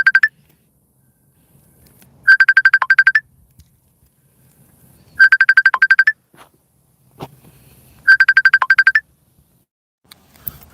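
A phone ringtone plays in three repeated bursts of rapid electronic beeping tones, loud and close, with short quiet gaps between them.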